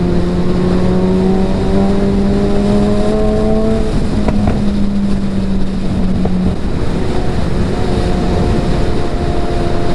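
A Suzuki Hayabusa motorcycle engine and exhaust drone steadily while riding, loud and continuous with engine pitch shifting up and falling back amid rushing wind noise.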